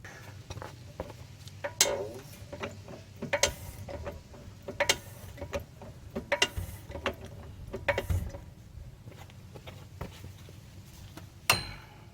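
A ratchet socket wrench clicks in short bursts while working on the wheel bearing of a 2005 Jaguar X-Type, with metallic clanks and tool knocks at a close, moderate level and no voices.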